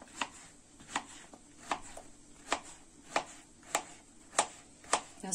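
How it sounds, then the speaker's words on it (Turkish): A knife chops peeled zucchini on a board in about nine crisp, evenly spaced strikes, each close and distinct against a quiet background, with no voices. "Kabaklarımızı doğruyoruz"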